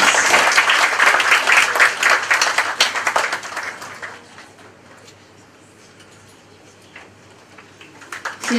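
Audience applause at a CD launch during the grand opening of a new Buddhist centre building in Singapore, loud clapping that dies away after a few seconds, leaving quiet room noise before a brief rise at the end.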